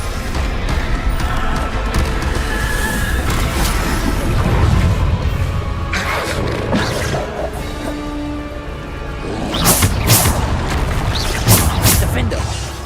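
Bombarda spell blasts in Hogwarts Legacy combat land as several loud, booming crashes spaced across the clip, the strongest bursts near the middle and end, over a constant bed of battle noise and voices.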